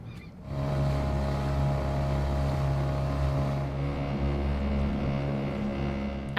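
Dinghy outboard motor running: a steady, droning engine hum with strong low tones, starting up after a brief moment and continuing close by, with some wind noise over it.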